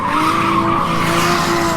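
Tires screech in a continuous loud squeal as a drift car slides around Nikko Circuit during an Ito Auto Service drift event, with engine roar beneath it.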